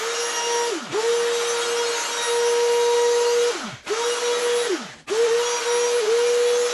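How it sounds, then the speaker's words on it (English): A router cuts a 4-inch circular hole in acoustic guitar wood with a loud, steady motor whine and cutting noise, spinning down and restarting three times, each stop falling sharply in pitch. "I've set this router to cut out a hole that's 4 inches in diameter"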